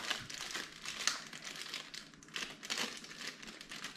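A plastic bag holding a 12-volt mains charging plug is pulled open, giving steady close crinkling and rustling throughout with a few sharper crackles, and no talk.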